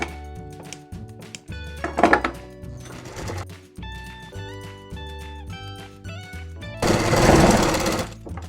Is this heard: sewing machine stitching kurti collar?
yes